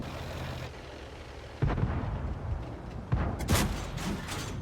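Tank guns firing in a World of Tanks-style battle game as a Foch B, two or three heavy booming shots with rumbling tails over steady background engine noise.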